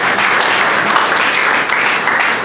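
Dense, steady applause from an audience at a theological school graduation ceremony in Port-de-Paix, filling the room evenly for a couple of seconds with no voices over it.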